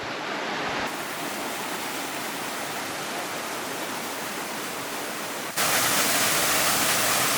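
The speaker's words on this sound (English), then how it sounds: "Nice little creek crossing coming up here." Creek water flowing at a bushwalking track crossing, a steady broadband rush heard close by that grows louder for the last couple of seconds.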